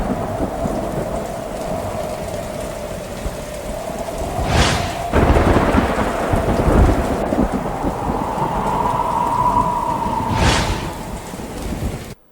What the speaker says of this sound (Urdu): لاہور کے مختلف علاقوں میں تیسرے روز بھی کہیں تیز تو کہیں ہلکی بارش سے موسم خوشگوار ہو گیا